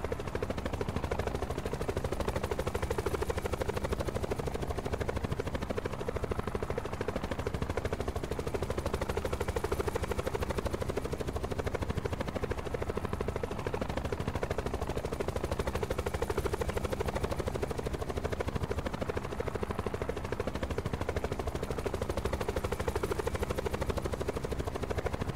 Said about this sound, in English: That'll be my helicopter.